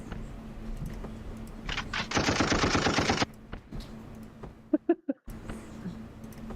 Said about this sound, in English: He responds with a machine gun.